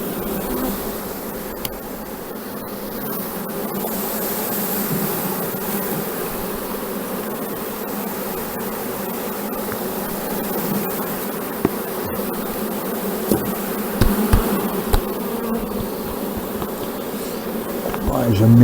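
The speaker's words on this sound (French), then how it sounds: "Les abeilles sont en train de se sauver du seau." Dense, continuous buzzing of many honeybees escaping from a bucket close by, with occasional louder passes and small knocks, no talking.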